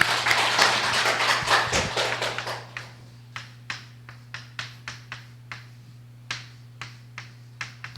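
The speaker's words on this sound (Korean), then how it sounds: "박수 주면서" An audience starts with a short burst of dense clapping. It thins into sparse, single claps spaced out over a low steady hum.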